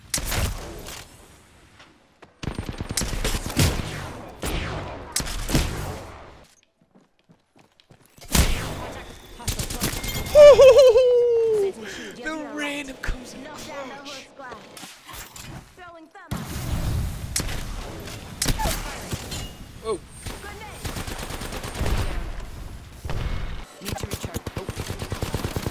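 Gunfire in the video game Apex Legends, repeated automatic bursts and single shots in scattered clusters, near and loud, broken by pauses, with players' voices calling out between the volleys.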